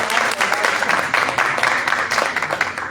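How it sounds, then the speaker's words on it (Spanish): An audience at an international book fair in Coahuila claps in sustained, dense applause lasting several seconds, fairly loud and close, with no talk over it. "Les voy a pedir un aplauso para que se nos animen."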